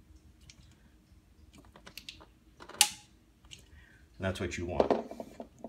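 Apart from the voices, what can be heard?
torque screwdriver clicking when it reaches 10 pounds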